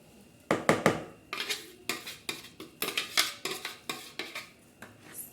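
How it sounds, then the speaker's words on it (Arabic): A utensil scrapes and knocks against a bowl while orange cake batter is stirred until the flour disappears, producing irregular clattering strokes, some quick and clustered, close and fairly loud with no talking. "نقلبهم مع بعض كده، نفضل نقلب لحد الدقيق بتاعنا ما يختفي"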